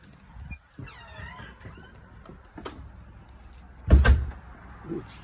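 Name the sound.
door being opened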